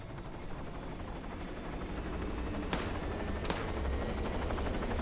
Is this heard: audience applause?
no